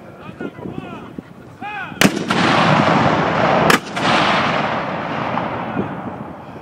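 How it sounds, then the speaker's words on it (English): Two cannons of a Civil War reenactment artillery battery fire at the Battle of Shiloh event, each blast loud and close, about two seconds apart. A long rumbling roar trails after each shot. "You've seen 2 cannons fired just then with the noise, concussion, and the smoke."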